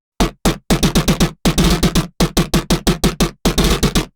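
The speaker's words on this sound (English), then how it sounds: "It's called gun bass, and it sounds like this" A percussive synth bass patch meant to resemble gunfire fires in rapid bursty runs of sharp, loud, noisy hits with abrupt cutoffs, grouped in clusters with brief silent gaps.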